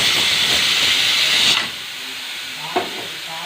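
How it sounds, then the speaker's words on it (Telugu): A loud, steady hiss of steam rushes out of a pressure cooker as its whistle is removed, lasting about a second and a half, then cuts off abruptly, leaving faint kitchen clatter. "కుక్కర్ విజిల్ తీసేసి"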